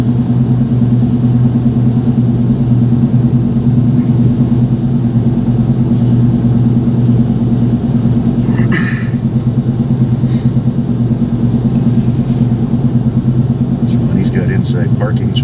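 A Chevrolet Blazer engine hums in a steady low rumble from inside the cab while driving, with a person talking over it.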